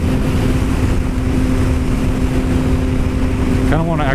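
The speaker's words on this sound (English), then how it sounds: "It's just ridiculously windy right now" Strong outdoor wind buffets the microphone, a loud continuous rumbling roar that fills the whole stretch, with a speaking voice breaking through only briefly at the end.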